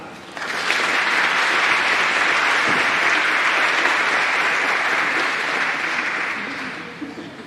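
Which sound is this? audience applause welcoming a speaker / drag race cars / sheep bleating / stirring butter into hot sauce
audience applause welcoming a speaker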